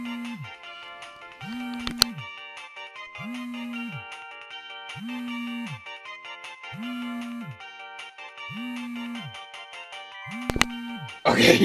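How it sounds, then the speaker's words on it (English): A phone in the video game Tokyo School Life rings with a repeating electronic ringtone, seven evenly spaced tones over a steady musical background, loud and clear. "her phone rings."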